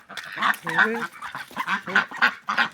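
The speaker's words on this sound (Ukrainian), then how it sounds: "Зриваю виноград і кидаю качка. А вони так гарно його їдять." Farmyard ducks fed grapes tossed to them, giving a run of loud, close, nasal quacks and honks in quick bursts with brief pauses, alone.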